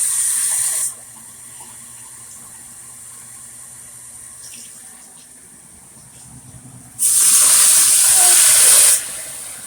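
Water rushing from a kitchen tap while cooking a cream of mushroom chicken casserole, two loud hissing bursts, a short one at the start and a longer one later, separated by a quieter stretch of faint kitchen background.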